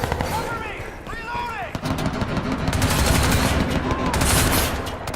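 Rapid bursts of gunfire in the game Crysis 2 Remastered crackle and pop continuously, with sharp close shots over a dense barrage of distant firing and a voice talking over it.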